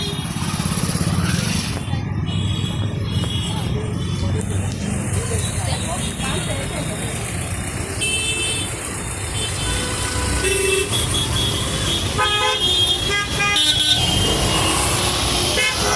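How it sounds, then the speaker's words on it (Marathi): Busy city road traffic at night near Chhatrapati Shivaji Maharaj Terminus, Mumbai, with a continuous rumble of engines and motorbikes, car horns tooting repeatedly, and voices murmuring in the background. "ट्रॅफिक लागलेलं आहे आता घरी जातो गाड्या बघा"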